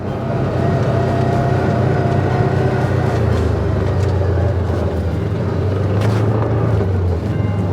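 A mower cuts grass on a farm with a steady, loud engine drone that holds throughout and never breaks, no voices over it.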